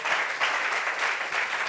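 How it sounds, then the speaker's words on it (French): An audience applauds steadily, a dense patter of many hands clapping at moderate volume with no talk over it. "Applaudissements pour Jules Béco"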